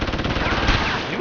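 Automatic gunfire in Deus Ex: Human Revolution, a dense and steady loud rattle that lasts the whole short moment, with some voice mixed in.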